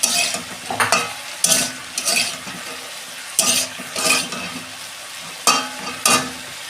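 Chopped tomatoes go into a frying potato and brinjal vegetarian curry, with loud, repeated bursts of stirring and scraping spaced across several seconds above a steady background sizzle.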